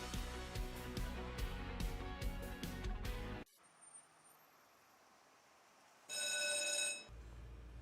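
A telephone in a business phone line advert gives a short, bright, tonal ring that comes in alone near the end, after a stretch of music and a quiet gap.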